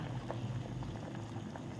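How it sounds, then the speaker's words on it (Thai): Water comes to a rolling boil in a cooking pot for fish-sauce boiled chicken, a soft, steady bubbling with light popping, heard close and quiet with no talk. "เดือดกำลังเดือดเลยนะคะ"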